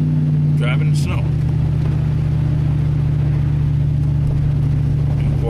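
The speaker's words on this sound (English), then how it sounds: "Instead, driving in the snow." Steady engine drone and road rumble from inside a car driving through an April snowstorm, with a voice talking over the noise.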